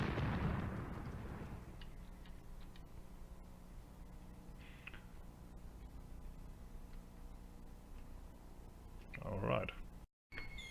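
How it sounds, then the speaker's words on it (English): An artillery strike in the Graviteam Tactics war game: a heavy rumbling blast that fades over the first seconds, then a quieter stretch of low rumble and a second sharp burst of impacts near the end. "That's my artillery strike that I ordered on here."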